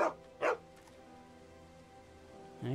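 A dog in The Walking Dead Season 2 video game gives two short barks close together, then a third bark after a pause, set over quiet background ambience.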